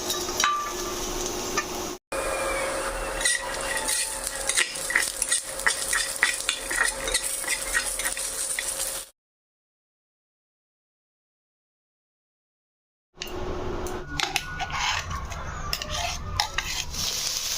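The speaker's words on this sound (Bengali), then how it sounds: "শুকনো মরিচ, বাদাম আর রসুন একবারেই দিয়ে দিলাম।" Dried chillies, nuts and garlic frying together in a pan for chicken kosha, steady close sizzling with frequent spoon scrapes and clinks, broken by a long silent gap before the stirring resumes.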